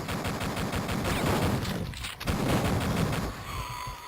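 Gunfire rattles in the video game Duke Nukem 3D, rapid bursts of shots that overlap and continue, with a short dip partway through, moderately quiet overall.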